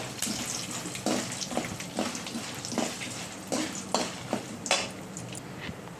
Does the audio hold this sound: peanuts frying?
yes